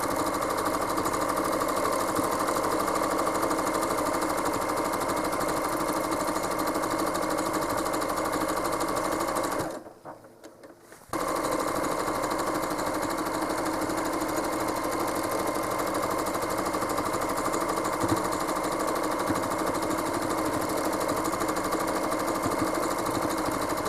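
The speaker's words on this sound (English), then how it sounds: "I'm going to stitch all the way back down till I'm about a ½ inch before the bottom center" Home sewing machine stitching a quilt, a steady mechanical whir running almost continuously, stopping for about a second to reposition before resuming, close and moderately loud.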